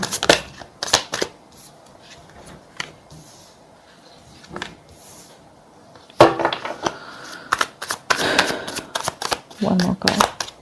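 Tarot cards shuffled by hand, bursts of riffling and flicking that grow busier and louder in the second half, while a person talks over them.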